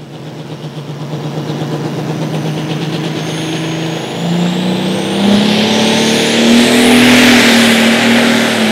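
Light super stock pulling tractor at an outlaw tractor pull in Wisner, Nebraska, revs hard and close, its loud engine climbing steadily in pitch as it pulls away, with no talk over it.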